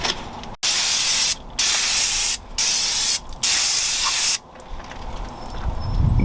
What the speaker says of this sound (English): Don't be afraid to soak these down, because the brake parts cleaner is, you know, washing all that away.